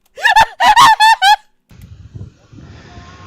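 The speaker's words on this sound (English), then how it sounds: "So throughout this, you'll hear him screaming" A man lets out five short, strained, high-pitched screams in quick succession, followed by quieter shuffling and background noise.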